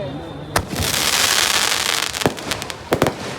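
Fireworks at a village fair burst in sharp loud cracks, with a single bang early, a cluster of pops later and a dense crackling hiss between them, while a voice speaks faintly underneath.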